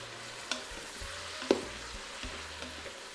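A tablespoon of freshly minced garlic sizzles in a pot alongside cooking sausage, a soft, steady frying hiss broken by a few stirring knocks and scrapes, close by with no talking.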